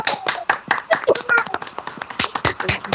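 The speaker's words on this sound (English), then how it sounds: "Let's give him a round of applause." An audience at a real estate talk applauds, a dense run of close hand claps with uneven rhythm lasting throughout.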